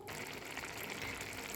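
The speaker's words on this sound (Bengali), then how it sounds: "ঝোলটা ফুটছে" Prawn curry gravy with sour curd boiling in a pan over a low flame, giving a steady, continuous bubbling hiss that stays even from start to end with no talk.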